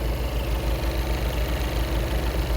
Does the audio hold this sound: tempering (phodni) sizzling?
no